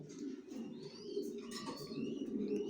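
Racing pigeons in a breeding loft coo in a steady, overlapping murmur, with thin chirps and whistles rising above it; no one speaks.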